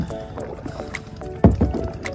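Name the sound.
kayak paddling on water at a waterpark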